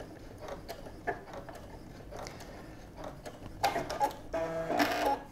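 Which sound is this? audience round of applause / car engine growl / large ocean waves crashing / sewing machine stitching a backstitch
sewing machine stitching a backstitch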